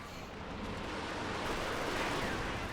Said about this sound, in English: Panther barrage into the base of Angry Dutchman